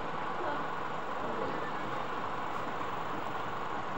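A train in a rail simulator game rolls past with a continuous, even rumble of wheels and wagons, steady and fairly loud for the whole stretch, without any talking.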